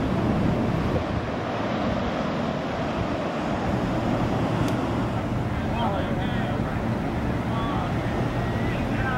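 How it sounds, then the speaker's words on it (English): Surf rolls at China Beach in San Francisco, a steady broadband roar of breaking waves mixed with wind buffeting the microphone, continuous throughout. "one of San Francisco's most beautiful beaches, China Beach"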